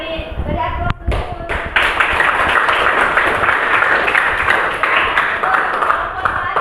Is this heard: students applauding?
yes